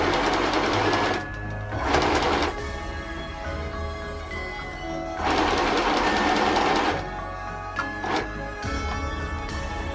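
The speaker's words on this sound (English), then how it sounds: "I figured I could make a quick task of machine sewing the lace on top of it." A domestic sewing machine stitches lace onto a dress hem, whirring loud and close in several short runs with brief pauses between them.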